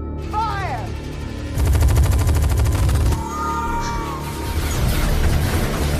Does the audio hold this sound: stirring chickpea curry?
no